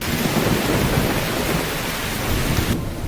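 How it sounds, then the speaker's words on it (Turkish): Heavy thunderstorm with rain, a loud continuous roar of downpour and rumbling thunder filling the whole stretch before cutting off abruptly near the end. "Dün akşam üstü aniden inanılmaz bir fırtına bastırdı."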